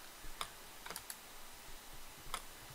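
Faint, sparse key presses on a computer keyboard type a Ctrl+E E shortcut, giving a few light clicks spaced irregularly over quiet room noise.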